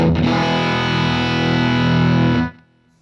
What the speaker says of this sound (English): So when it's all the way up, I have a nice overdriven tone.